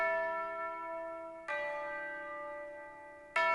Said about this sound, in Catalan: Don Fernando, les campanes també són antigues?